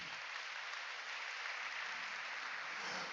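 Soft, distant applause from a church congregation forms a continuous wash of clapping across the whole stretch, quiet and without talk.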